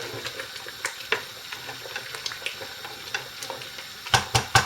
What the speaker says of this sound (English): it still boils very, very vigorously. But stir it very frequently